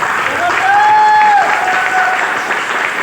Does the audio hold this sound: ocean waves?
no